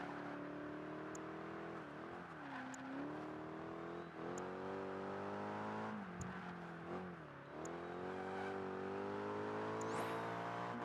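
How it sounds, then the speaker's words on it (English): A racing car engine in Project Gotham Racing 3 on the Whitehall Walk course, a steady high-pitched whine that rises and dips with gear changes and cornering, fairly quiet, without talk. "I'm just going to try and drive as quickly as I can"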